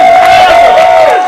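A live-stream audience makes a burst of noise on cue, loud crowd screaming, whooping and cheering packed together, with one sustained high yell riding over the din before it trails off.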